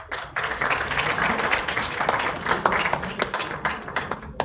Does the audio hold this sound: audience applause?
yes